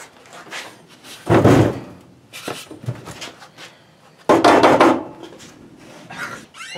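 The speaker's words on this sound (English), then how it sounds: "I shut my door so the smoke alarm didn't go" A door is shut indoors, giving two heavy wooden thuds several seconds apart, each loud and near, with scuffing, shuffling movement and small knocks between them.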